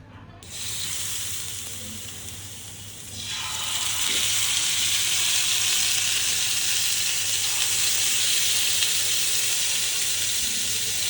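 Marinated chicken fries in oil in a flat pan, giving a steady loud sizzling hiss that swells after a few seconds and continues unbroken with no talk.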